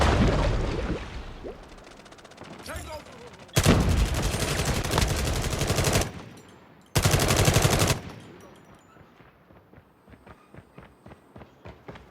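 Holger 26 light machine gun in Call of Duty Mobile fires two loud sustained bursts, each lasting a couple of seconds, with quieter scattered shots and footsteps before and between them and fainter distant fire trailing off afterward.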